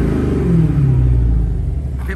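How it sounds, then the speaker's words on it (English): A 2021 Dodge Challenger SRT Hellcat Redeye revs up through its exhaust with a deep, loud rumble that rises in pitch and then eases off against a soft rev limiter. "So let's check the exhaust."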